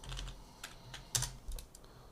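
A few soft keystrokes on a computer keyboard, quiet and close, with one slightly louder cluster of clicks in the middle.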